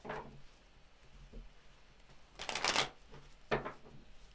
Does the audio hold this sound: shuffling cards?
yes